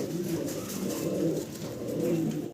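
Fancy pigeons coo continuously at close range, rolling low calls rising and falling in a steady chorus with no voices.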